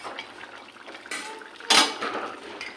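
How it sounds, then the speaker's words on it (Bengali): A metal lid lifted off a cooking pan of Bengali omelette curry gives a sharp clatter partway through, after a fainter clink, over a low kitchen background with no talk. "বন্ধুরা এবার ঢাকনাটা সরিয়ে নেব।"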